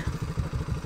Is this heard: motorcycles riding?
yes